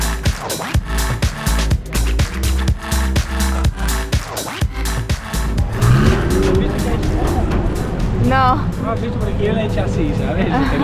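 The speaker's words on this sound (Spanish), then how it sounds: "todos estamos aquí en la famosa curva mirando cuántos coches pasan" Cars pass one after another through the famous curve of the Monaco street circuit, engines roaring close by in rapid repeated bursts, then a denser rumble with people talking.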